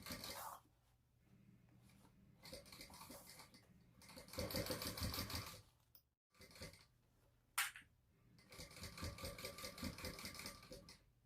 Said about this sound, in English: make sure that you're sewing this at the seam allowance in the pattern